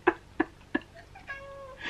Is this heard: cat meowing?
yes